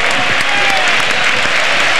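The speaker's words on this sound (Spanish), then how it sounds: "El aplauso tremendo que se llevó el gaditano por parte del público." Loud, sustained applause from a stadium crowd at a 1995–96 La Liga match, Atlético de Madrid against Albacete, greeting a substituted player, dense clapping roaring continuously with a faint commentator voice beneath.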